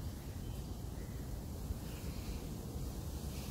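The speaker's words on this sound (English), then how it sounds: "It's really chilly out here and windy." Steady wind rushing and buffeting against the microphone, a constant low roar with no other sounds standing out.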